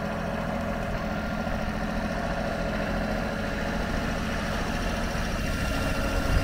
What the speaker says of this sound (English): Little tractor.